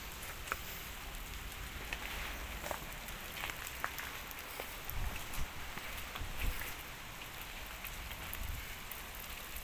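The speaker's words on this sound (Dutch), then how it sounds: "Het regent een beetje." Steady light rain patters outdoors beside a DAF army truck, with soft scattered drops over a quiet, even background hiss.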